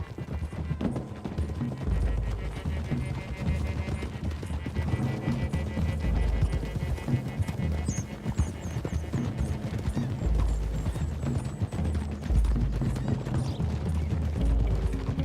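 Horse hooves clip-clop in a fast, continuous galloping rhythm in the video game Red Dead Redemption 2, with a faint whinny and light mechanical clinks in the background.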